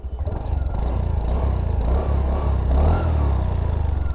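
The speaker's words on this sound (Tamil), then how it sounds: "த்ராட்டில் கொடுத்து காட்டுறேன்." Honda Dio 125 scooter engine running close by, a steady low droning idle that swells slightly as the throttle is opened, smooth and fairly quiet, with no talking.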